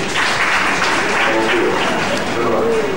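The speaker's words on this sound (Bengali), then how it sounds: "আমি চাইবো আপনারা সকলে একবার সিনিয়র লোকেদের জন্য একটু হাততালি বাজায়" Audience applause at a live music event, a dense wash of clapping at steady volume for a few seconds, with a voice faintly audible underneath.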